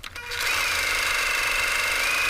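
A sewing machine runs steadily, stitching elastic along the full length of a fabric mask's side, its fast even whir starting after a brief pause and holding close and loud with no talk.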